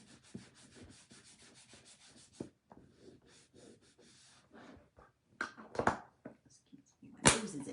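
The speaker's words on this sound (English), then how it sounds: "And then I'm just buffing it. Making sure I don't have any chunks and just kind of helping it get into the wood." Wax being buffed into a wooden surface by hand, a soft, steady rubbing and sanding-like friction with a few louder scrubbing bursts near the end, heard close up with no speech.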